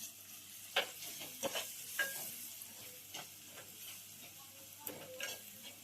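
Fish curry with chili powder and tomato cooking in a pan, heard as a quiet sizzle under scattered scrapes and taps of a spoon stirring against the metal, with no voices.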